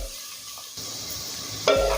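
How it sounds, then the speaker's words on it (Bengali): Vegetables sizzle softly in an open pan, uncovered, with a spoon scraping and stirring, getting louder near the end. "এই ঢাকা খোলা অবস্থাতেই আরও কিছুক্ষণ সবজিগুলো ভাজা ভাজা করে নেব।"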